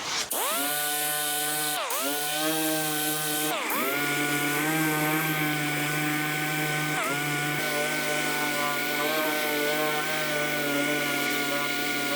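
A DA orbital sander works across an aftermarket hood for a 1970 Chevelle. It gives a steady, loud mechanical whine with a few short dips in pitch as the pad loads and releases. The sound continues unbroken for about twelve seconds with no voice.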